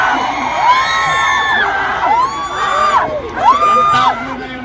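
A large crowd at a political rally in Bukidnon shouts, whoops and cheers in loud, continuous waves, with rising yells cresting repeatedly over a dense roar.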